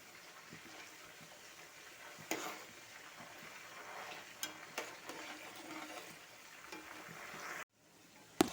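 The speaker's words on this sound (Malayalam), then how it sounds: "നന്നായിട്ട് വറുത്ത് വരട്ടെ കേട്ടോ" Banana chips for Kerala-style kaya chips fry in hot oil, giving a steady, fairly quiet sizzle broken by occasional stirring clicks and scrapes, with no voices.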